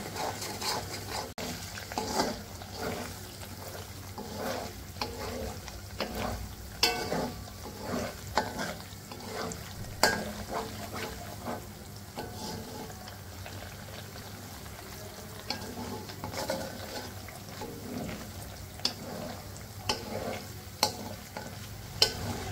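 Homemade ghee bubbles and sizzles in a pan, a soft continuous frying crackle broken by intermittent stirring scrapes and clicks, fairly quiet and close with no voices.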